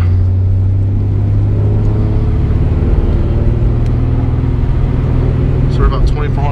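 A car engine driving steadily in third gear at around 2400–2500 RPM, a loud, continuous low drone with road rumble from inside the cabin, while someone talks over it throughout.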